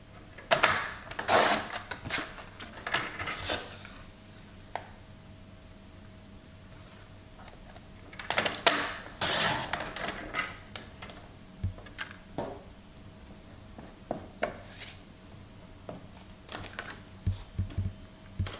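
Scissors or a paper cutter trimming paper for a wedding scrapbook album, heard as scattered close crisp snips and rustles in bursts, with quiet gaps between, in a calm indoor setting and no speech.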